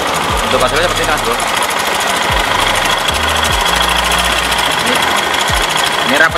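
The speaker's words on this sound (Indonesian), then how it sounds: "Tapi sayang ini mesinnya agak kasar karena motornya ya ini maklum lah motornya" A motorcycle engine, just repaired at a broken injector housing, runs rough and loud with a steady uneven knocking throb throughout, nearby and continuous.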